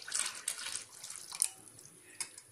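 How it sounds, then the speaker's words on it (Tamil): Water is poured into a pan of egg paniyaram gravy, making a short, soft splashing trickle with a few uneven bursts and no talking. "இப்போ இதல இன்னும் கொஞ்சம் தண்ணி ஊத்துணும்"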